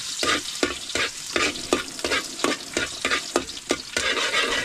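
Garlic sautéing in a pan while cooking mudfish, a steady sizzle broken by regular scraping stirs of a utensil, close and fairly loud with no talking.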